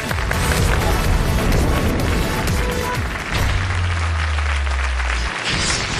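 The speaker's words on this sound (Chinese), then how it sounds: "感谢大伙儿的掌声鼓励。" A large audience at a live comedy stage show greets the xiangsheng performers with loud, sustained clapping that fills the whole stretch, with a low rumble joining under it partway through.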